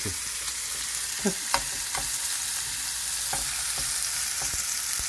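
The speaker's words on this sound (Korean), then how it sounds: "이런 식으로 튀기듯이 네. 구워주다가" Food sizzles and crackles steadily in a hot pan, with a few sharper pops and scrapes now and then.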